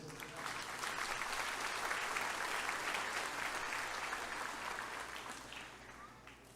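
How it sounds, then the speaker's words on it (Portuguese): A church congregation applauds the Lord during a Feast of Tabernacles service, sustained clapping from many people that swells, holds steady and gradually fades toward the end. "Dê um aplauso ao Senhor pela sua vida"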